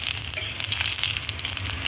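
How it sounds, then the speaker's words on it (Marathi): Green chillies and garlic sautéing in hot tempering oil for a Marathi wild-greens dish, a dense continuous sizzle and spatter close up, with faint stirring beneath, no talk. "हिरवी मिरची आणि लसूण चांगला परतून घेऊ"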